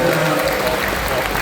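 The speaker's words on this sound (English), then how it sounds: "So a round of applause for all our competitors." Applause from a crowd at a robot combat show at a science festival in Brisbane, steady clapping close by, with a voice talking over it.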